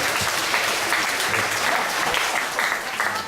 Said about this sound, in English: Clap your hand for Father Thomas.